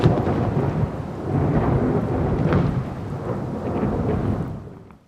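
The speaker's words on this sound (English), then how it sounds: "A huge thunderstorm continues throughout the whole night." A heavy nighttime thunderstorm: steady dense rain hisses under a long rolling thunder rumble that surges and then fades away at the end.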